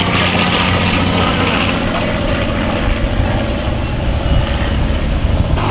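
A vintage propeller airplane's engine drones loud and steady as it lands at Rhinebeck Aerodrome, rumbling throughout with a broad roar, close by and continuous.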